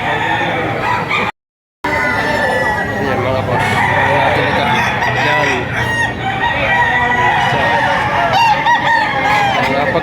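Chickens at a Philippine market stall, crowing and clucking loudly and continuously close at hand, with people talking among them and a brief dropout near the start.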